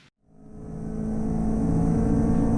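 Touring race car lapping Donington Park in a qualifying session, engine rising into a steady, loud, close droning roar after a brief silent gap at the start.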